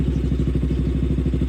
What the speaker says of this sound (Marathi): आपण आपली RC स्टार्ट केली आहे